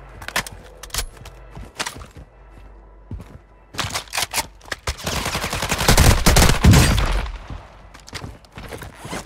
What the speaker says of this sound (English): I'm just casually sniping in a solo game